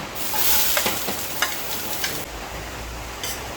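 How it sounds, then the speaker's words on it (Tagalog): Ginger hitting preheated cooking oil in a pot, a loud continuous sizzle with several scraping stirs early on, then a steadier fry, no voices. "Nag-preheat na tayo ng mantika sa ating cooking pot ilalagay na natin ngayon ang luya"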